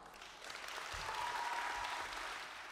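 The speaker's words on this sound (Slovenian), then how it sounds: "En aplavz" Soft, steady applause rises from an audience at the Stična youth festival, a faint but continuous patter of many hands that swells slightly and then eases.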